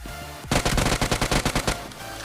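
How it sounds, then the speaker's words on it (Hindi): Rapid gunfire in the BGMI video game, a dense run of about a dozen sharp shots fired in quick succession, loud and close, after a short low rumble. "एक बंदा शॉटगन मारता है"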